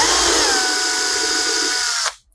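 A power drill bores a screw hole into a guitar for a Gilchrist tailpiece installation, with a close, loud, steady whine that runs for about two seconds before cutting off abruptly, no voices present.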